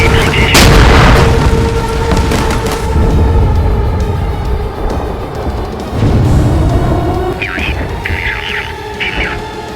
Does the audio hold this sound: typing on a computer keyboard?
no